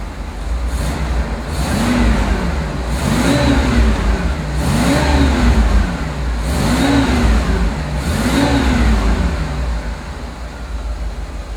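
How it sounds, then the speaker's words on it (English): A 1985 Rolls Royce Silver Spirit engine revs repeatedly, about five smooth rises and falls in pitch at a steady rhythm, heard up close, fairly quiet and refined with no one talking. "We're going to rev this up to see how quiet it is."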